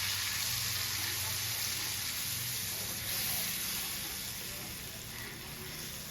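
Onion paste frying in mustard oil with bay leaf for prawn malai curry makes a steady, even hiss of sizzling. It holds at a moderate level without breaks and no one speaks.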